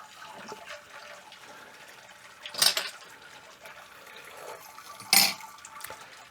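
Liquid drains from a homebrew vessel while brewing an English best bitter, a faint trickling wash of water with two brief louder gurgling surges, close by and alone.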